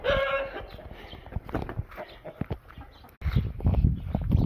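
Chickens cluck and squawk close by in an irregular burst of calls, with a brief crowing note at the start and a jump in loudness midway.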